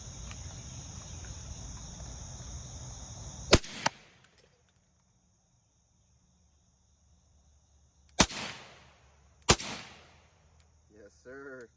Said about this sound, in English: now I gotta see if it'll feed in the pistol suppressed with a full 20 round magazine